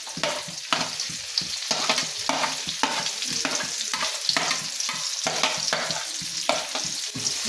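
Six chopped onions sizzle in a pan with steady frying crackle, broken by repeated scraping strokes of a spoon stirring every half second or so, close and fairly loud, with no voices.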